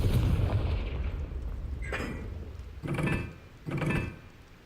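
The Confringo blasting spell in Hogwarts Legacy fires as several heavy, booming bursts in quick succession, each a sharp punch over a rumbling game background.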